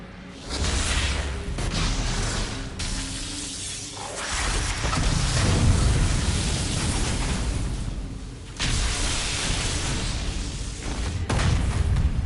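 A planted explosive blows up in Dragon Age: Inquisition, a loud booming blast with rumbling, crackling debris that swells and surges again over several seconds amid game effects.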